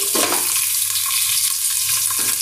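Potatoes fry in a pan with an even, hissing sizzle, close and steady, broken by a brief stirring scrape at the start and end.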